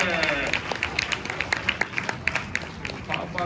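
Audience members clap at Tokyo DisneySea's Crush show, a scattered round of claps from the crowd with chatter mixed in underneath.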